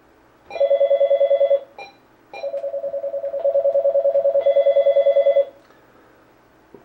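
A telephone rings for an incoming caller on a French-language radio call-in show, loud electronic trilling rings in separate bursts with short gaps between them, with no talk over them.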